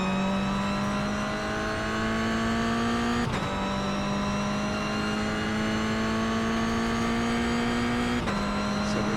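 Race car lapping Rockingham, coming out of the infield's final corner onto the oval, engine droning loud and close at high revs with two brief gear shifts, no talk.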